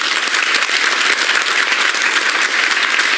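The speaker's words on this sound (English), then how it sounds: "I forgot the mandatory left-wing question time applause for the soppiest point of the evening made." Steady, dense applause from a television studio audience at a Question Time political debate, sustained and fairly loud throughout the short burst with no voices over it.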